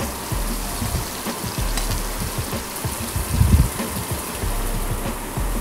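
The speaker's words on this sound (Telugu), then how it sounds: "ఈ రెండు కూడా ఫ్రై అయిన తర్వాత పచ్చిమిర్చి కూడా వేసి ఫ్రై చేసుకుందాం." Cumin seeds and green chillies fry in hot oil for a cluster bean stir-fry, giving a continuous close sizzle with crackling pops and a brief louder flare midway.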